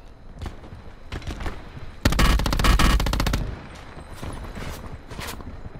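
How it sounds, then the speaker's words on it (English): A sentry gun fires in Call of Duty as one loud, rapid automatic burst lasting over a second, standing out against quieter scattered gunfire before and after. "So that is not your sentry gun?"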